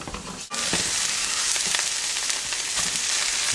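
Spinach feta burger patties sizzle on a grill, a loud, continuous, close frying hiss with occasional pops, broken only by a brief dip near the start; no one speaks.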